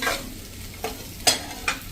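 A spoon stirs rolled fenugreek-leaf patra in a pan of hot tempering oil, giving a steady soft sizzle broken by a few sharp scraping clinks of metal against the pan.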